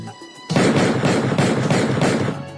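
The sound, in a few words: gunshots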